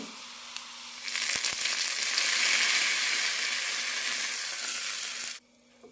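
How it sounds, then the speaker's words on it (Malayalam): Hot tempering of mustard seeds, curry leaves and shallots poured into a green gram curry bursts into a loud, steady sizzle for about four seconds, then cuts off abruptly to quiet. "ചെറുള്ളി ചെറുതായി ഒന്ന് ചുവന്ന് കിട്ടുമ്പോൾ കറിയിലേക്ക് ഒഴിക്കാം"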